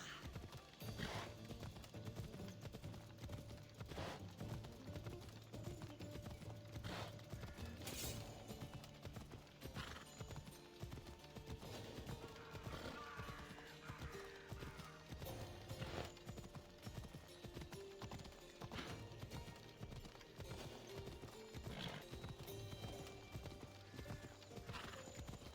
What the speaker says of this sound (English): Take this horse and leave.